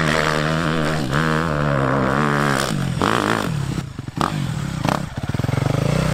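Nearby dirt bike engine running loud and steady in the dunes, its drone holding a constant pitch and then breaking into uneven revs and blips toward the end.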